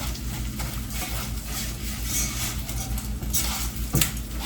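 Rice-A-Roni toasting in a pan on a stove set to high, with a continuous sizzling hiss and occasional scraping stirs and a light clink of utensil against the pan.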